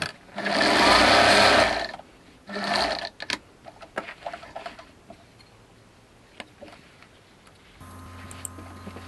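Sewing machine stitching patchwork fabric scraps for a rug made from remnants, two loud runs of rapid mechanical whirring followed by quieter ticks, clicks and handling of fabric.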